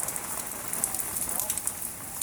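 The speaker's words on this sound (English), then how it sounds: "it's raining right now" Heavy rain from Tropical Storm Eta falls outside a house in South Florida, a steady hiss and patter with drips striking surfaces nearby and a voice murmuring faintly underneath.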